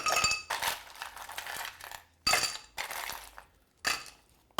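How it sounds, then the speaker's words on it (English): Ice cubes dropped by hand into a cocktail mixing glass give several bursts of clinking and rattling, separated by brief pauses, close and clear. "I'm just using shaking ice, and unfortunately I don't have a little scoop, so I'm just going to use my hands"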